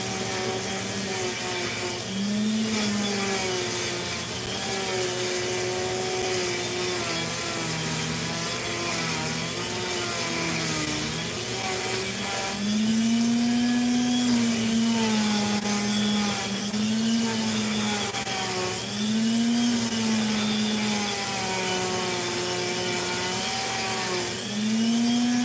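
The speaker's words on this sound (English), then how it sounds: "I'm just going in circular motions around the Dremel." Dremel rotary tool polishing a rock, moved in circular motions: a steady high whine runs the whole time, with its pitch rising and dipping in repeated waves as the load changes, close and continuous, with no talking.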